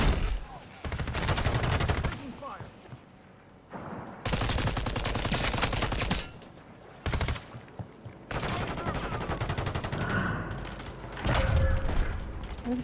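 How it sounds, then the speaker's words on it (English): Gunfire in Call of Duty Warzone Resurgence trios on PS5: loud, repeated bursts of automatic shooting separated by short pauses, with players talking over the shots at times. "They're shooting it."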